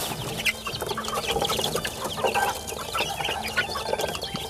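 Laying hens on a Thai farm cluck and chatter continuously at close range, a busy overlapping flock with no speech over it.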